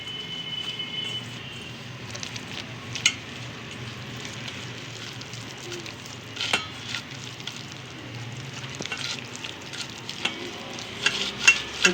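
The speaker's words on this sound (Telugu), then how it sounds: "కొద్దిగా దోసపిండిలాగా కలుపుకోవాలి." Hand stirring of fish bajji batter made for murrel fish, with wet mixing, soft scraping and occasional clinks of the bowl, steady and close without talking.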